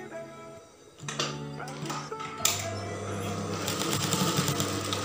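A sewing machine stitches fabric repeatedly, its needle running in a fast steady mechanical whir that starts and stops a few times before settling into a continuous run, close and moderately loud.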